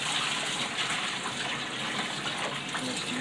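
Water rushes steadily through a homebrew keg during a final rinse, making a continuous, close hiss and splash with no break.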